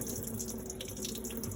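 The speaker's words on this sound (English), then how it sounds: "So we're washing the rice. I'm actually using parboiled rice." Tap water runs steadily into a sink as parboiled rice is washed for Caribbean-style rice, a continuous soft rushing splash with no voices.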